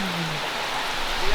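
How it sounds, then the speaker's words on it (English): Steady rain falling in the Bali jungle, heard from beneath a shed roof at a small roadside shop, a dense continuous patter with no voices. "Oh god, now it's raining."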